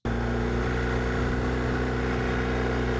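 A BMW R1250 GS motorcycle engine idles steadily and loudly close by, a constant rumbling drone with no talking.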